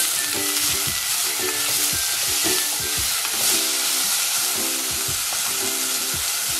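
Chopped tomato and fresh green peas sizzle steadily in a hot pan for a khichdi, with repeated clinks and scrapes of a spoon stirring at an even rhythm, close and fairly loud, no voices.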